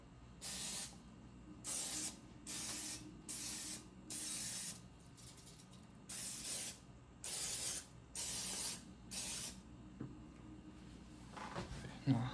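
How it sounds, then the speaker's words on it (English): Several short bursts of aerosol cooking spray hiss onto a muffin pan, each about a second long, separated by brief pauses, close by with faint background noise. "So I'm gonna spray these muffin pan here"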